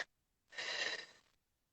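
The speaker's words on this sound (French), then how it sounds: "Vous allez souffler pour vider l'air." A single long, breathy exhale emptying the lungs, fairly close and soft, lasting under a second, with near silence around it.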